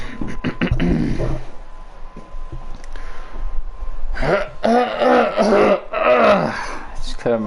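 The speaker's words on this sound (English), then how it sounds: "Just clear my throat" Several short rough throat-clearing bursts near the mic at the start, followed by someone talking in a room during a poker league session.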